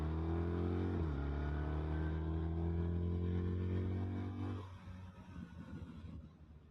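A BMW R 1300 RT motorcycle is ridden, its engine holding a steady droning note that dips briefly and rises, then drops away into rushing wind and road noise.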